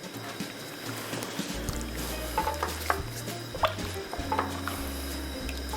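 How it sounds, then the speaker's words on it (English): A spoon stirs crawfish étouffée and scrapes across the bottom of the pan, giving soft intermittent scraping and clinking strokes over a faint sizzle and steady background hiss. "always make sure to just kind of wipe the bottom of that pan"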